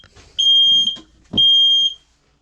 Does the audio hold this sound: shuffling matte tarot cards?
no